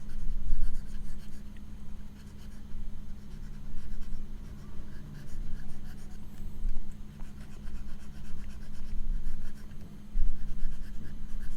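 Pencil drawing on paper, a continuous scratchy rubbing of strokes with a faint steady hum behind, close and moderately quiet, no talking.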